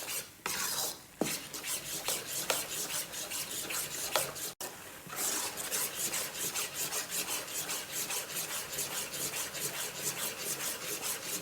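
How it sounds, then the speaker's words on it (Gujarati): Mawa being stirred into a mohanthal mixture in a pan, a steady rhythmic scraping and rubbing of spoon against metal that carries on close up for several seconds without talk. "માવો નાખીને 5 મિનિટ હલાવવાનું।"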